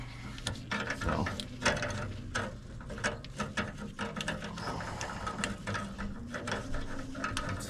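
A worn belt is loosened and removed from an old furnace's motor and fan assembly, producing close, irregular ratcheting clicks, metallic clanks and wrench rattles against a low background hum, with no talking.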